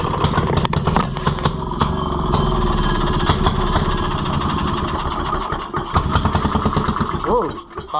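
A Maytag model 92 washing machine engine cranks and fires backwards, a loud rapid irregular putter of firing strokes with mechanical rattling, close by, with voices talking over it near the end.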